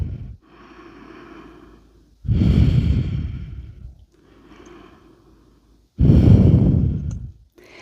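Deep, loud breathing during a hatha yoga class, with long slow inhales and exhales alternating strongly, some breaths audibly forced through the nose, close up and with no talking.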